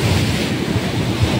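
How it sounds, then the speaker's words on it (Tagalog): Strong waves crash on a beach at Blue Lagoon beach resort in Quezon Province: a loud, continuous roar of surf with wind buffeting the microphone. "Grabing hampas ng alon"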